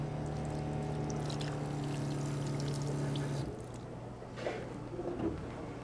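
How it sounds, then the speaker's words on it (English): Thick raw chocolate pie filling pours into a dish, a soft, close sloppy glug and squish that follows a steady machine hum which cuts off partway, then faint wet plops and scraping; no one speaks. "Now we just pour this in there"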